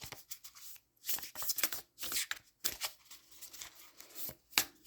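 A deck of crystal cards is shuffled up close, giving quick bursts of papery riffling and flicking in an uneven rhythm with brief pauses between them.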